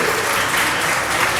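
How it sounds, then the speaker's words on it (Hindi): Dense, continuous applause fills a hall at a student essay and elocution competition, many hands clapping in an unbroken, loud wash. "तालियां लगातार इनको लगना चाहिए"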